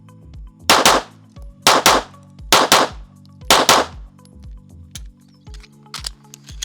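Smith & Wesson Carry Comp compensated pistol fired in quick double shots: four loud, close pairs of sharp cracks in steady rhythm with metallic ringing between them, followed by quieter clinks near the end.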